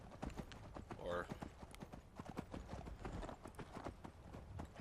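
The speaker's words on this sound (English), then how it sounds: "Ah, the joys of having a spectral horse." Hooves of a spectral horse in Skyrim clip-clop in a steady galloping rhythm, with a brief whinny near the start and a voice talking faintly alongside.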